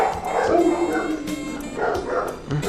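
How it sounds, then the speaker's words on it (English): Pit bulls barking and yipping close by, a string of sharp, fairly loud barks mixed with whiny yelps, several in quick succession. "Blanco and Blanchie, twin dogs, pit bull, both pit bulls."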